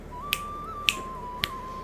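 Three crisp, isolated finger snaps, evenly spaced about half a second apart, sounding close and sharp over a faint steady background tone.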